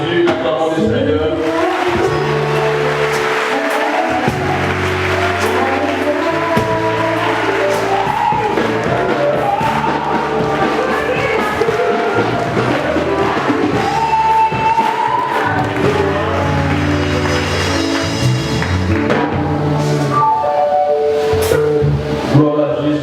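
A church congregation at a worship service, led by a prophet, cheers and acclaims loudly and continuously, with crowd voices, shouts and music filling the whole stretch.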